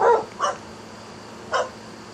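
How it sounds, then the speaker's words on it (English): Dogs barking a short distance away, three separate barks or yips with quiet pauses between them over a faint steady background hum. "And then, you get the dogs barking,"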